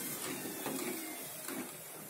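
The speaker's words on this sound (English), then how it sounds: "I also like to spin the washing machine one last time" A Bosch Exxel 7 washing machine on a final spin makes a steady, continuous mechanical whir and hum, moderately loud and even throughout, with a faint rhythmic rumble and no voices.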